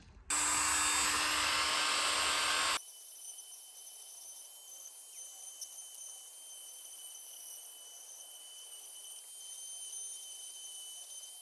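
A rotary power tool deburring the oil return holes in a 1963 Corvair engine case: a loud, steady high-pitched whine for about three seconds, then a fainter continuous grinding hum for the rest.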